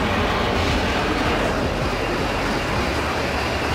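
A Hokuriku Shinkansen high-speed train in Japan passes at about 260 km/h, a loud, steady, broad rushing roar that fills the whole stretch without talk.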